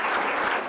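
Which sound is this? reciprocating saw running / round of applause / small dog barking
round of applause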